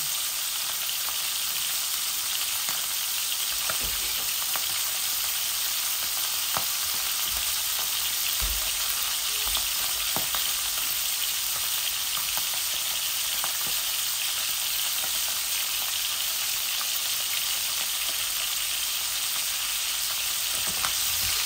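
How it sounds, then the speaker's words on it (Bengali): Potatoes and tomatoes half-frying in oil in a pan, a steady, dense sizzle that runs on without a break, with a few faint clinks and stirs along the way. "আমি এগুলাকে বেশি বেশি ভাজবো না। আমি এটাকে হাফ ভেজে নিব"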